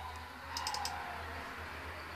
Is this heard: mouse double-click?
yes